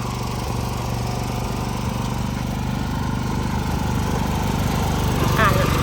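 An old Japanese Yanmar UP-2 petrol ride-on tractor runs in second gear, its small engine chugging in a steady, close, fairly loud rhythm that holds throughout, with someone talking over it.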